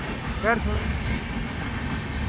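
Passenger train, the 03257 Danapur–Anand Vihar Jan Sadharan Express, running on rails with a steady low rumble throughout and a person briefly talking over it.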